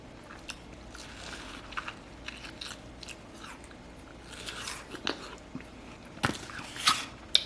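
Someone eats watermelon up close with wet bites, crunches and slurps, the sounds irregular and quiet, then getting sharper and louder toward the end, with no talking.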